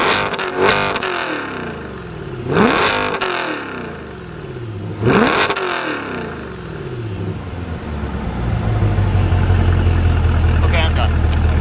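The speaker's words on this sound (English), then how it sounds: "So I'm gonna rev it out one more time" A 2020 Chevrolet Corvette C8 V8 is revved hard three times, each a loud rising roar followed by a falling wail, then it settles into a deeper, steady engine drone heard from inside the car.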